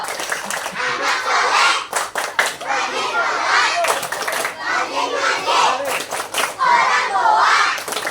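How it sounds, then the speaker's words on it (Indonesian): Children in a group doing a rhythmic clapping chant at an Islamic Maulid Nabi gathering, loud chanting voices with bursts of clapping, close and lively. "Tepuk anak soleh."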